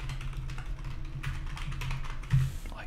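Typing on a computer keyboard while building a website wireframe in Adobe XD: soft, quick key clicks in an irregular run, close and moderately quiet over a low steady hum.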